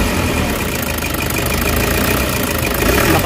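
A Toyota HiAce Commuter engine with a valve train knocking and vibration fault runs loud and close, a rapid steady ticking knock riding over a rough, continuous idle.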